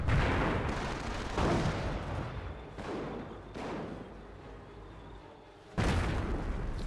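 Mortar fire in a strategy video game booms out in several heavy, spaced blasts, each a loud thud with a trailing rumble, the last one landing after a quieter lull.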